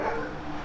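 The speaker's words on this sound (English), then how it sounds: "dog barking" A dog barks and yips somewhere in the room during a session of Football Manager 26, a short, faint sound caught through a cheap microphone.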